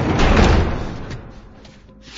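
A door being barricaded shut in The Last of Us, a heavy thudding slam up front that trails off into softer scraping and knocking.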